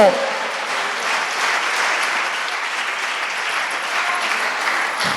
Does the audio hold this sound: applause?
yes